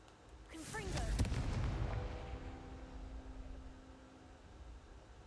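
A Confringo blasting spell goes off in a magic-themed video game, one sudden loud explosive burst with a crackling high edge that rolls into a long, fading low rumble.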